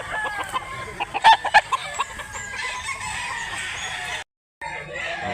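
Roosters and hens call at a chicken market in Mantalungon, Barili, Cebu, with a short burst of crowing and clucking over a busy crowd murmur, and a brief dropout near the end.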